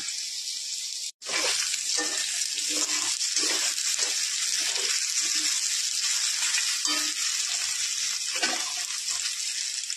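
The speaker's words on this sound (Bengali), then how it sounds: "আমি এবার একটু গোটা জিরে ফোড়ন দিলাম।" Whole cumin seeds sizzle and crackle in hot oil in a pan of frying potatoes, a loud continuous sizzle with repeated stirring scrapes, briefly interrupted near the start.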